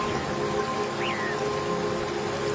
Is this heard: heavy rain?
yes